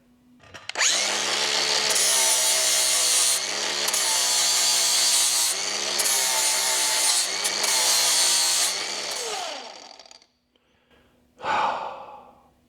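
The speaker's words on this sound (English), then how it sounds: "So I'm gonna grab the grinder, clean everything up that's over here" An angle grinder cleaning up metal on a cheap auction farm implement, a loud continuous whine running for about ten seconds with slight pitch dips, then stopping, followed by a brief rustle.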